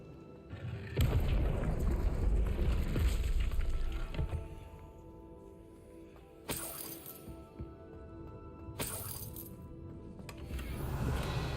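Revelio spell cast in the Hogwarts Legacy video game, a deep booming whoosh that swells and lingers for a few seconds, followed by two bright shimmering bursts over a soft music-like ambient bed.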